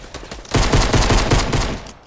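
Rapid assault rifle fire in a video game, a loud sustained burst of closely spaced shots lasting over a second, with no talking.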